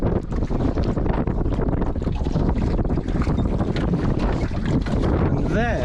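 Strong wind and wave noise buffet the microphone while boarding a sailboat in high winds and choppy water, a loud continuous roar with broadband gusts throughout.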